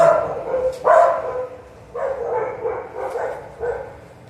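A dog barks several times at moderate distance, uneven yaps and woofs with short gaps between them, clearly audible in an otherwise quiet room.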